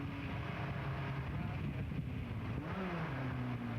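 Onboard racing car heard from the cockpit, a steady engine drone with wind buffeting, its pitch dropping and climbing again as the driver shifts down two gears into a right-hand bend.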